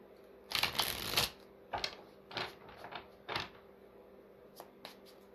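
Tarot cards being shuffled in a few quick riffling bursts, close up, with short pauses and softer taps between them.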